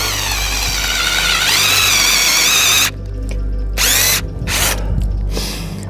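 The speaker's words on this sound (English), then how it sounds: "Put your drill in, aim it slightly up at an angle, about 35 degrees." A power drill whirs loudly into a silver birch trunk, its motor pitch rising, then stops and restarts in a few short bursts.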